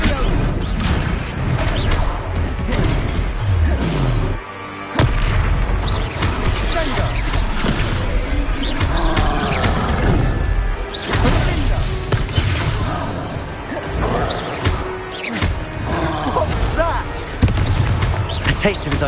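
Spell-casting combat in a Harry Potter video game, with constant blasts, crashes and magical impacts that fill the scene loudly, mixed under game music and characters shouting.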